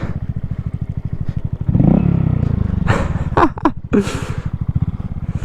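Motorcycle performing a stoppie in a parking lot: steady engine rumble rises as the bike brakes hard, with scraping, clattering bursts mid-clip before the idle pulse returns.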